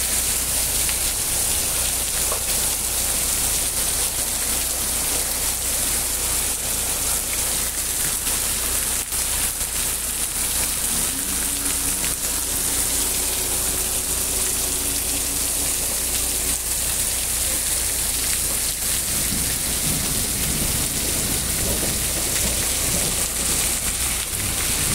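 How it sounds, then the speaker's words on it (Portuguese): Heavy rain mixed with hail pours down in a mountain area, a dense, steady roar of hiss with no gaps, loud and close throughout. "Muita chuva, gente. Muita chuva."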